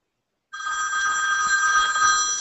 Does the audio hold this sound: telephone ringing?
yes